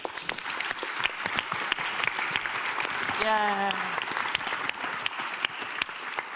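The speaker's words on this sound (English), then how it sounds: "And also another round of applause for our panelists." Steady applause from a sizable audience at a climate change symposium fills the room, with a voice briefly calling out in the middle.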